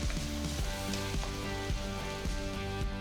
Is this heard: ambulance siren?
no